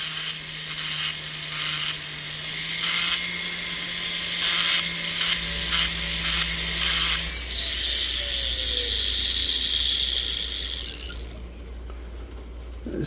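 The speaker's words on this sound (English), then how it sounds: "Still got just a little bit more filing we need to do on this side." A hand file rasps steadily against sizing stock, filing down its inside in repeated strokes, close and fairly loud over a low background hum.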